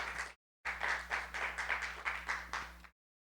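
An audience at a presentation in a technology park breaks into applause, a short burst of clapping, then a longer swell of many hands pulsing in waves before stopping abruptly.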